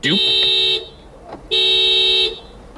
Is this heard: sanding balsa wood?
no